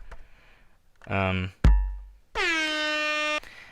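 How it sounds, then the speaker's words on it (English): An air horn sample triggered on a Casio Trackformer sounds as a loud sustained blast with strong harmonics. It comes after a shorter tonal hit and a sharp percussive thump, with no talk in between. "Let's just say I wanted just that air horn."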